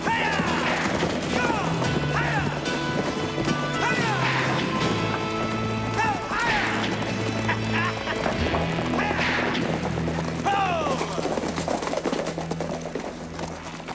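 Horse hooves clip-clop over a bed of music and background voices in a western TV drama, the rhythmic steps steady and moderately loud.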